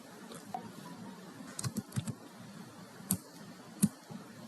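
Quiet keyboard typing on a computer, a few scattered clicks and short bursts of keystrokes in a hushed room, with no talk.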